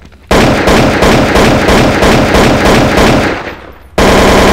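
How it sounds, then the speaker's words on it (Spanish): Sustained automatic rifle fire in CS Pro Mod on the Dust 2 map, loud fast evenly spaced shots for several seconds, a short pause, then another burst begins. "voy a disparar un poquito para que vean el recoil"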